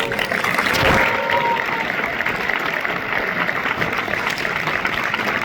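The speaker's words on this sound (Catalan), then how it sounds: "Un fort aplaudiment, sisplau." An audience at the Sitges 2024 award ceremony for the Màquina del Temps prize claps steadily, a dense wash of applause from a large room held at an even level throughout.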